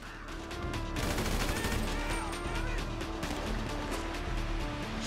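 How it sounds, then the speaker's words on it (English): Rapid gunfire rattles in the GTA 5 video game, a dense sustained fusillade of overlapping shots with game ambience underneath, loud and continuous. "Who the hell is shooting me from where?"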